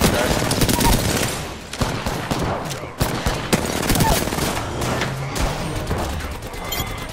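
Rapid automatic gunfire in the Apex Legends video game, with dense overlapping bursts and shots running loud and continuous across the whole stretch, carrying no clear speech above it.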